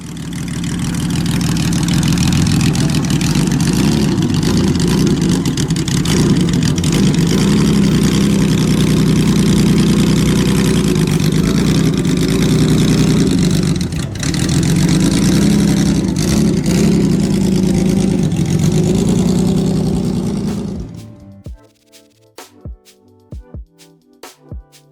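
Car engine fed by three Weber 45 DCM carburetors, its deep, V8-like rumble steady and loud for about twenty seconds before cutting off abruptly, leaving sparse faint clicks.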